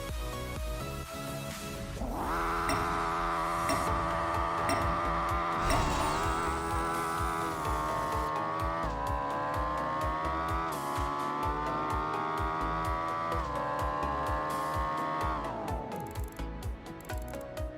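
A race car engine in the Apex Racer video game roars through a quarter-mile drag run, revving high and steady with clear gear-shift dips and rises, loud and close, with no talk.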